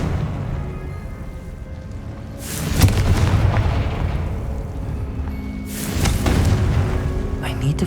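Two loud booming blasts of the Confringo fire spell in Hogwarts Legacy, each a sudden explosive burst with a rumbling tail, separated by a few seconds over steady game background ambience.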